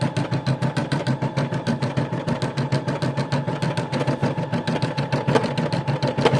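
Brother SE700 embroidery machine stitching steadily, a fast, even mechanical chatter with regular pulses repeating throughout, close and fairly loud, with no talking.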